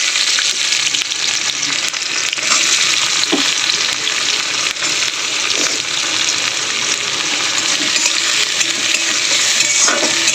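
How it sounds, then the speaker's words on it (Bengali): Chopped onion frying in oil with reddened whole garam masala, a loud, close, continuous sizzle and hiss with occasional stirring clicks, steady from start to finish. "তো এবারের মধ্যে গরম মশলাগুলো লাল হয়ে গেছে, আমি দিয়ে দেবো কুচানো পেঁয়াজ।"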